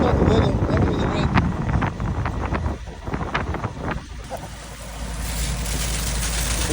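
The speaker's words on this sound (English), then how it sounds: "That'll be the wind." Strong wind buffets the microphone at an outdoor concrete pour, a loud, steady rumbling roar with clicks and knocks from the work, and a person speaks over it.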